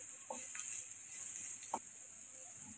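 Onion sizzling in a pan over a high flame gives a faint, even hiss, broken by a few soft scrapes and taps as a spatula stirs it, with no voice.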